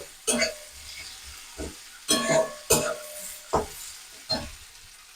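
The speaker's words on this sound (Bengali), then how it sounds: "পেঁয়াজ কুচিটা দিয়ে দেবো পেঁয়াজটা দিয়ে আমি হালকা করে ভেজে নেব" Finely chopped onion fries in oil, with a soft sizzle broken by about seven sharp stirring scrapes of a spatula in the pan, close and fairly loud.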